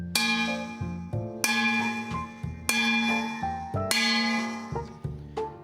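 A bell in a radio studio is struck four times in a slow, uneven rhythm, each bright metallic clang ringing out with a long decaying tone between hits, close and clear.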